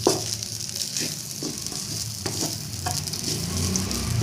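Coconut rice being stirred in a hot pan, a steady sizzle with soft repeated scraping and tossing strokes, close and alone without speech.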